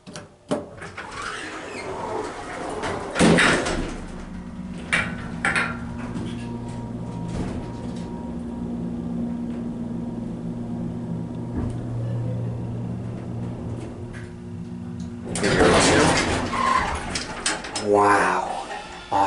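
An original Otis Lexan hydraulic elevator at a Macy's in Millcreek Mall, Erie, hums steadily through a ride, with door and leveling clunks near the start and end; people speak briefly at the close.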